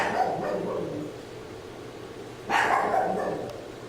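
Dogs at a Kansas City shelter, including newly arrived Chihuahuas and puppies, make a few short barks and yips. A louder burst comes near the end over a faint background.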